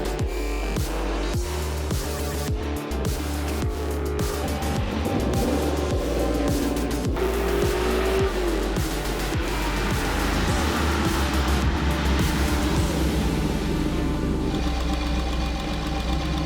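A turbocharged Audi race car engine revs hard and continuously with rapid pulsing, knocking and boost whine, loud and close throughout.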